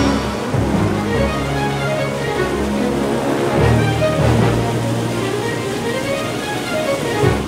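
Steady, full-bodied rush of water at the Plitvice Lakes in Croatia, a continuous roar like a waterfall and strong currents, loud and unbroken throughout with no voices.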